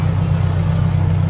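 An old Ford tractor engine in a summer carnival parade runs in a steady low idle, close and continuous with no talk.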